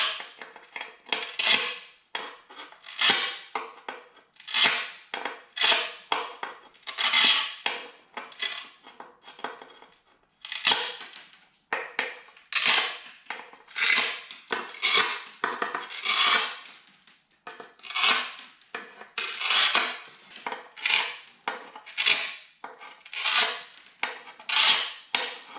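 Tile nippers nibble away at a ceramic tile to open a hole, giving a steady run of sharp, close clicking snaps with crunchy chips, repeated in quick irregular bursts with no talking.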